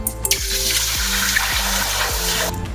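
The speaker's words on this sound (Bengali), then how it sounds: "কড়াইতে জল দিয়ে নিচ্ছি" Water pours steadily into a cooking pan, a continuous close splashing gush with faint rising tones as it fills.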